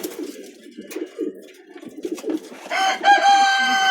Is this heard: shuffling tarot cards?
no